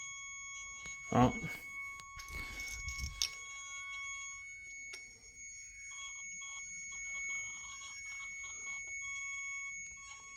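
An orgonite Rodin coil with strong vibrating magnets gives off a steady high electronic hum of layered sustained tones, after a couple of sharp clacks as the magnets snap together; a person talks nearby.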